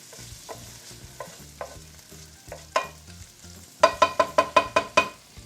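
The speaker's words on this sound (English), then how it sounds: "I'm going to chuck in the pine nuts now" Pine nuts toast in a dry saucepan while a utensil stirs them, giving soft scrapes followed by a quick run of seven sharp, evenly spaced clicks and knocks against the pan, close and alone.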